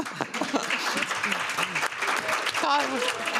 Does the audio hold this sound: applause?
yes